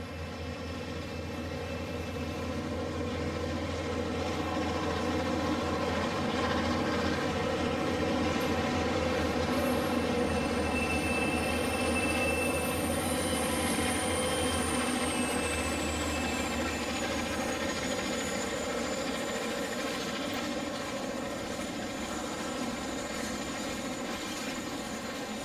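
An HO scale Western Pacific model train led by a diesel locomotive rumbles steadily through a tunnel, a continuous droning motor hum with a faint high whine, sustained and even throughout.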